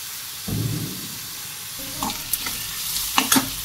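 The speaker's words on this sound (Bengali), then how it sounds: "আদা রসুন পেঁয়াজটা ভালো করে কষানো হয়ে গেলে এর মধ্যে দিয়ে দেবো টমেটোটা" Tomato fries with ginger, garlic and onion in a pan. A steady oily hiss runs under a low rumbling stir near the start, followed by several sharp scrapes and clinks toward the end, close by and without voices.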